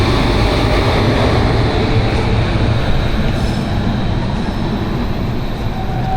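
Garib Rath Express train pulling out of Coimbatore Junction, heard as a loud, continuous rumble of wheels on rails with a steady mechanical roar and no voices.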